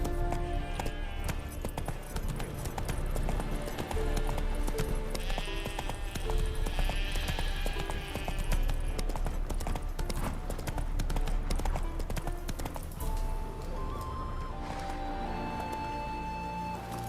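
Roach, Geralt's horse in The Witcher 3: Wild Hunt, gallops with a rapid, continuous clip-clop of hooves under a busy layer of background music and ambience.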